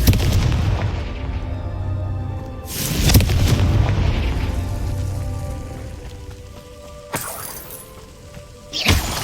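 Repeated fiery spell blasts in Hogwarts Legacy, a Confringo explosion game effect: three loud booming bursts with crackling debris tails, separated by low rumbling, no talk.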